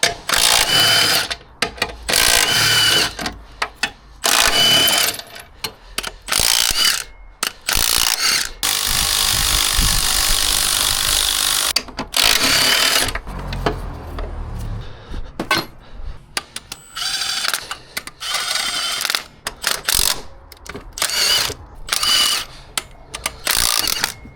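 A chain hoist ratchets in repeated bursts of clicking and clanking, loud and close, as it lifts the engine out of a Renault Kangoo.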